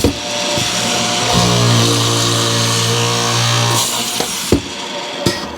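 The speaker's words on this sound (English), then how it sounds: "the air clamps will come down, and then the head will come down and drill the 3 holes" A woodworking drilling machine with air clamps bores three holes in cherry cabinet stock, a loud steady motor drone rising as the head feeds down, followed by sharp pneumatic clamp releases.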